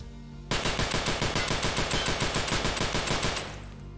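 A modded SVDS rifle fires in Escape From Tarkov, a rapid, evenly spaced string of loud cracks lasting about three seconds. The shots begin abruptly after a short silence and end with a fading tail.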